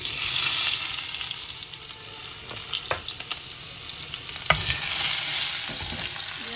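Ginger, garlic, cardamom, black pepper and bay leaves fry in hot oil with a steady hiss, broken by occasional scrapes and taps of a stirring spoon.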